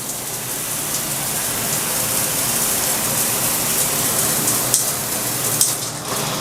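A high-pressure shower head sprays water in mist mode, giving a loud, steady, fine hiss that runs unbroken throughout with no talk.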